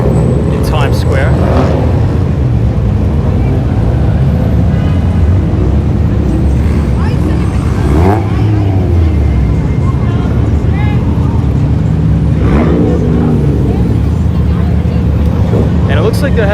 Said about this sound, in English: And it looks like they're having some sort of car meetup or car show here.